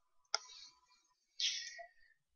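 A computer mouse gives two soft, close clicks about a second apart in near silence while a file is being saved, with no voices.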